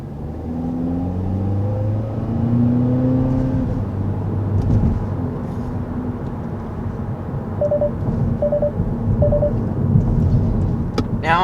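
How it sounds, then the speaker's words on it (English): A 2021 Kia Forte GT sport sedan's low, steady exhaust rumble drones throughout, with a few short electronic beeps near the end. "you can tell that there's a little bit of extra exhaust note"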